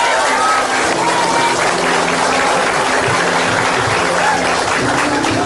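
Applause from a crowd, a steady dense patter of clapping that holds evenly throughout without pause.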